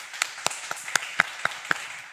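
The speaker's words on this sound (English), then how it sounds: "Round of applause for you." Applause from a live startup pitch event audience in New York, with sparse, distinct claps spaced about a quarter second apart, fairly quiet and without voices.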